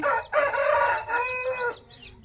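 A ten-month-old Kakinemmili Parla rooster crows nearby, loud and drawn out, while faint chirps and clucks sound in the background.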